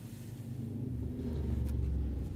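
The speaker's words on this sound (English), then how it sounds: "loud car" A loud car passes nearby, its deep engine rumble swelling steadily and holding strong to the end, with no talking.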